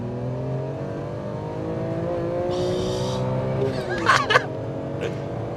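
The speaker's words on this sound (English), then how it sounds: "I love the raspy exhaust that you get and the mechanical noise from the valve train that you hear." A BMW E46 M3 with its S54 straight-six, on standard exhaust and intake, revs hard from idle, its raspy tone rising through several steady harmonics, with brief sharper mechanical bursts near the end.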